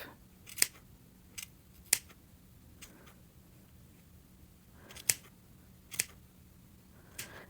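Scissors trimming overly long pieces unevenly, giving six or so sharp, crisp snips spaced irregularly over a quiet background, close and clear with no talking.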